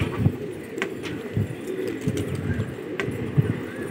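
Gola pigeons coo repeatedly in a loft, soft rhythmic low coos recurring every second or so, close and clear with faint chirps behind.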